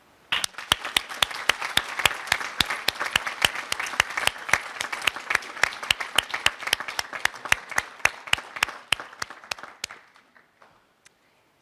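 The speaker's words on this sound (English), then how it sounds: "join in a round of applause for everyone who has supported the success of these students" A graduation recognition ceremony audience gives a steady round of applause, many hands clapping densely and evenly for about ten seconds before it thins out and fades to near silence.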